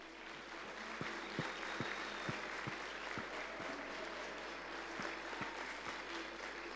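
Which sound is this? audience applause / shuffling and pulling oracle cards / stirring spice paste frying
audience applause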